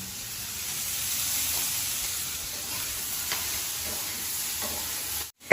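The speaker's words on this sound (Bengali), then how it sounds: "গ্যাসটা ছোট করে রাখতে হবে, নাহলে সয়াবিনটা আর পেঁয়াজটা ভাজা ভাজা হবে না।" Soybean chunks and onion fry over a low gas flame in a pan, giving a steady, even hiss with a few faint stirring clicks before the sound cuts off abruptly at the end.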